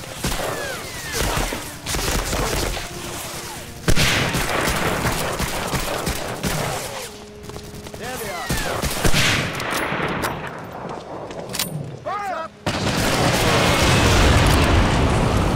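Machine gun fire in the World War II shooter game Medal of Honor: Allied Assault, bursts of rapid gunfire with booming blasts and battlefield noise, loud and dense with brief lulls.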